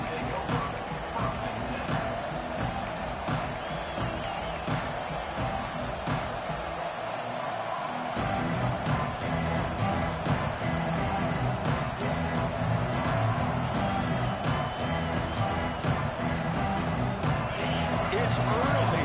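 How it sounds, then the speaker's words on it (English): Fired-up stadium crowd at a college football game, a dense and steady roar that never lets up, with a commentator talking over it. "It's early, but this crowd is fired up. Listen to this noise here."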